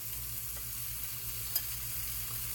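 Buttered bread laid down to toast for a rotisserie chicken sandwich, giving a soft, steady sizzle at low volume with one brief click partway through.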